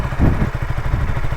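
A KTM Duke 200 BS6 motorcycle engine runs close by with a steady low, throbbing pulse and some mechanical clatter, sounding loud and continuous with no voices over it.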